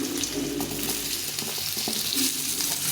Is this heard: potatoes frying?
yes